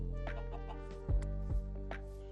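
Minecraft chickens cluck in short repeated bursts over a steady game backdrop, with a few soft thumps between the clucks.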